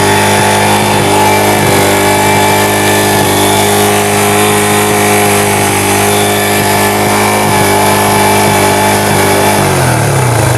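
TVS motorcycle engine running loud and steady close up while being set for mileage, holding a constant drone before the revs shift near the end.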